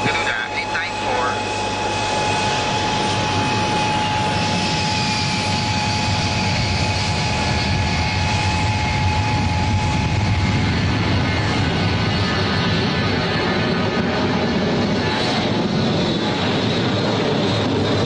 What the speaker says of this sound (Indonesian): Garuda 894 is clear for lineup and takeoff.